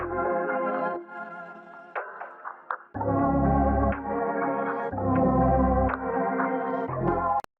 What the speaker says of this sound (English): I added one more perc loop from an Only One kit